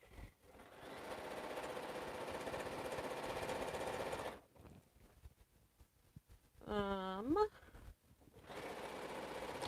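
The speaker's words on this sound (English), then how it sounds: "I go back to sewing because that's what I like to do" A sewing machine stitches a quilt in a steady, close whir that runs for about four seconds, stops, then resumes briefly near the end, with a person speaking over the later part.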